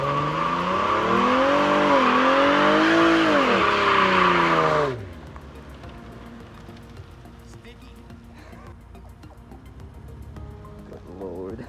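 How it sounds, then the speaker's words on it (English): A 2007 Ford Ranger with a 4.0L V6 and five-speed manual does a burnout, its engine roaring loud and close with rising and falling revs and tire squeal for about five seconds, then cutting to quieter background noise. "A burnout."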